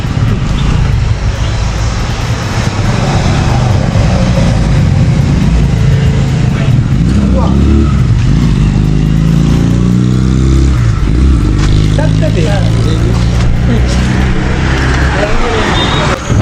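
A motorcycle engine runs loudly and steadily close by, revving up and down, with someone talking over the noise.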